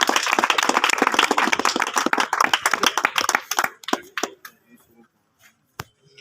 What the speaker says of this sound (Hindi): एक बार शानदार तालियां चाहूंगा मौलाना उस्मानी जी।